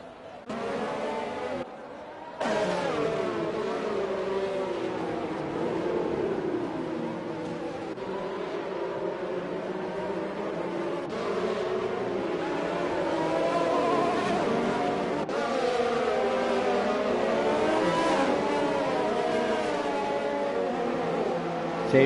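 A tight pack of race cars in a racing video game drones along together, a steady buzzing engine whine that rises and falls in pitch as the cars run bunched up.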